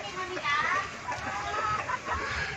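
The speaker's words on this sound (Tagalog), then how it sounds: "Nandyan ang mga inahin natin ng mga manok mga idol." Mother hens kept at a farm hut cluck and chatter continuously at close range, a busy overlapping run of calls that rises and falls throughout.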